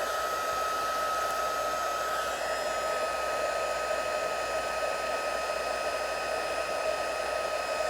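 A craft heat tool for embossing, turned to its hottest setting, blows a steady, even, whooshing hum with a high whine, close and constant throughout, with no talking.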